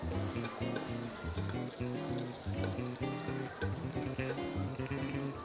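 Leek sizzles in a hot, smoking pan, a steady close crackle and hiss with a lively popping texture that carries on evenly throughout.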